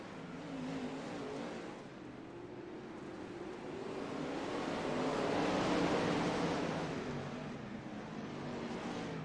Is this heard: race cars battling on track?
yes